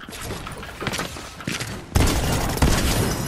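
Shotgun fire in Fortnite, several loud, close blasts in quick succession, the strongest arriving late in the run, with no talking over them.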